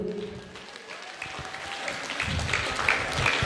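Audience applause at a Tulu drama staged by a Udupi women's fish vendors' association: a steady, dense clapping from a crowd that swells slightly toward the end, with no voices over it.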